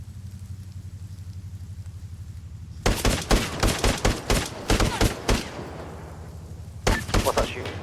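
An auto turret firing in the military game Arma 3: loud bursts of rapid shots in uneven clusters, then a short final burst, over a steady low engine-like hum.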